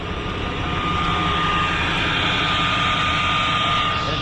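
A vehicle engine emits a loud, steady high-pitched scream heard from the intake side, a constant whining roar with a sharp tonal note held unchanged throughout, close and with no pauses.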